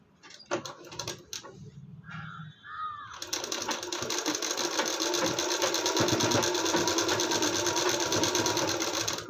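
A sewing machine stitches a hook strip onto an embroidered blouse, running in a steady, loud, continuous whir after a few seconds of quieter handling and a brief rustle at the start.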